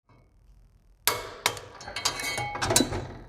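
Several sharp metallic clanks and ratchet clicks from a wrench tightening exhaust header bolts on an Aston Martin DB9, close and fairly loud, coming in an irregular burst after a quiet start.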